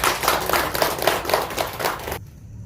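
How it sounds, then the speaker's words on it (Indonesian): Group of women applauding at the close of a pregnancy information session, a burst of several seconds of dense clapping that stops abruptly. "tepuk tangan untuk kita semua"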